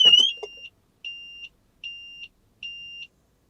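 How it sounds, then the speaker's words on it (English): A car alarm gives four evenly spaced electronic warning beeps after the car is disturbed, each about half a second long, sharp and clear, following a brief chirp at the start. "4 beeps to warn you that the car was disturbed"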